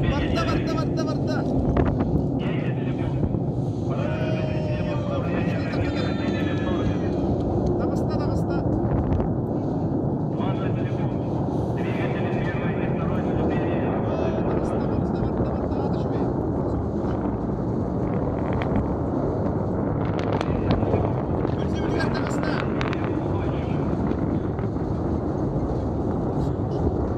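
Soyuz-2.1a rocket lifting off from the Vostochny cosmodrome: a loud, continuous broadband roar with deep rumble and wind buffeting, sustained throughout while a voice gives launch reports over it.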